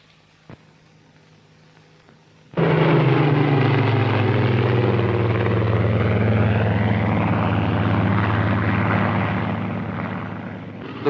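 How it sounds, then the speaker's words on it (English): Royal Navy training aircraft slow flying for carrier deck landing practice in 1946, a loud propeller engine drone that starts abruptly and holds close, then slowly eases in level. "The pupils now have an opportunity of slow flying their aircraft under actual carrier deck landing conditions."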